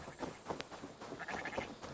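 Sheep bleating in the Assassin's Creed Valhalla video game, a few short wavering bleats at moderate distance over a busy, faint background of game ambience.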